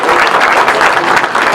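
A crowd claps at a Tour de Bretagne cycling race ceremony in the town of Sérent, the applause loud, close and sustained without a break.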